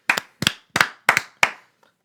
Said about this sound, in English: 3-second clap to us for not slacking off on spring break